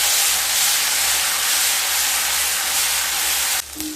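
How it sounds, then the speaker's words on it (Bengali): Onion paste frying in hot oil for a coriander katla fish curry, giving a loud, steady broadband hiss that runs unbroken for several seconds before briefly dropping near the end. "পেঁয়াজটাকে হালকা ভেজে নেব।"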